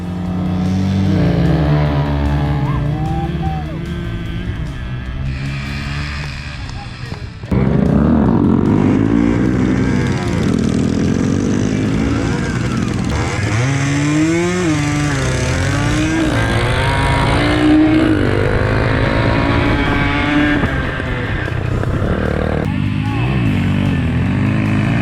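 Small motorbikes race on a dirt track in a three-wide knockout final, engines revving and whining continuously with rising and falling pitch as they pass, loud and sustained for the whole stretch.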